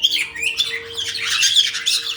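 A flock of pet birds chirps and squawks while eating chop indoors in a bird room, dense overlapping close calls over a steady low hum.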